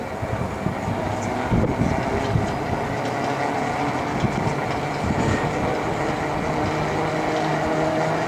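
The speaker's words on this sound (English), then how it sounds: "There it goes. There goes the tram." The Sandia Peak aerial tramway car in Albuquerque moves along with a steady, broad rumble and whooshing wind, plus occasional clatters and bumps.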